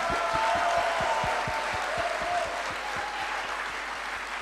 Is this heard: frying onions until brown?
no